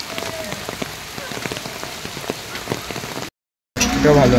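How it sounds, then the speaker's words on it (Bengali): Steady rain pattering on surfaces around a science centre in Guwahati, Assam, with close scattered drops over a continuous hiss, cut by a brief dropout before a louder burst at the end. "বৃষ্টি পড়ছে,"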